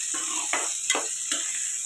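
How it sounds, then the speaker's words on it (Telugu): Okra and brinjal frying in a pan for chutney, a soft sizzle with about five rhythmic stirring scrapes in quick succession, close by. "బెండకాయ, వంకాయ ఇలా చక్కగా వేగిపోతే పచ్చడి టేస్ట్గా బాగుంటుంది."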